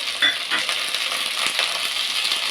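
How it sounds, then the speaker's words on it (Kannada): Garlic, chili, onion, pepper and ginger fry in hot oil with a bright, crackling sizzle, close and continuous, punctuated by a few stirring scrapes in the pan. "ಶುಂಠಿ ಲೈಟಾಗಿ ಫ್ರೈ ಮಾಡ್ಕೊಳ್ಳೋಣ"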